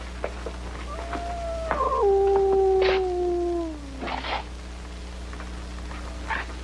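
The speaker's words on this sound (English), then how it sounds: "they used to say a howling dog meant somebody was going to die" A dog howls in a 1961 television drama: one long, mournful, gliding wail that slowly drops in pitch, heard over a steady low hum with a few faint noises around it.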